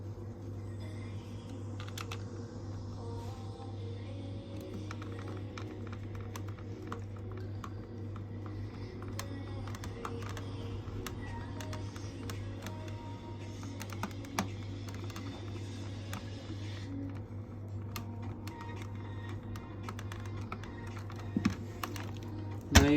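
Screws are tightened on a Dyson V10 cordless vacuum battery, giving scattered small clicks and ticks over a low steady hum. The sounds are close but quiet, with a few sharper taps near the end and no talking.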